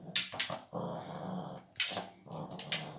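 A puppy growls close by in short, low rumbling bursts, broken by a few sharper yips, all fairly quiet.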